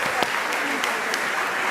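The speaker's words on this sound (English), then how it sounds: "I would like to invite everyone to join in a big round of applause for our religious education teachers." A church congregation claps for its religious education teachers, filling the room with dense, continuous applause and a few sharper claps standing out close by.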